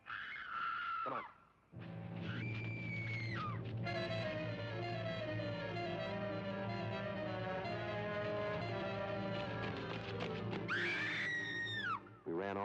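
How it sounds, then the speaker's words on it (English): A person screams loudly in a 1951 Dragnet crime drama episode, with a piercing cry at the start and another near the end, bracketing a long sustained dramatic tone. "When we got close enough, we found out the reason for the scream."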